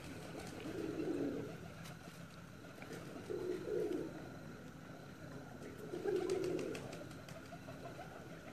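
Pigeons kept by a high-flying pigeon fancier coo in three soft, low bursts spaced a few seconds apart, heard against a steady outdoor background with no talking.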